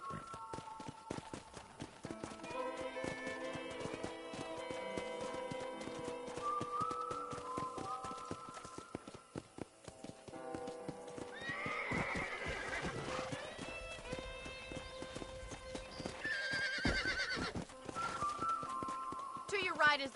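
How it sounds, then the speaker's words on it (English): Horse riding in a western ranch video game: steady clip-clop hoofbeats with repeated neighs and whinnies over a bed of game music, with a character talking through parts of it. "Okay, let's see if you can still ride a horse."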